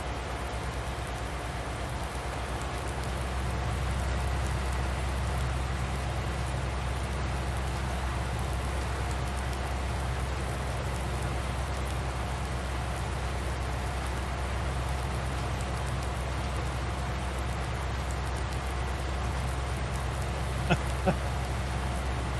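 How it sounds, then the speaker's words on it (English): Steady rain in the farming video game Farming Simulator 19, a constant even hiss of falling rain with a low background hum, unbroken and fairly quiet throughout. "When I mean straight days of rain, I mean it never stopped."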